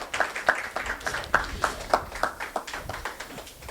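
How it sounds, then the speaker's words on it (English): Scattered hand clapping from a small audience at a lupus awareness event, a few people applauding panelists unevenly with no voices over it. "Another round of applause for our panelists, please."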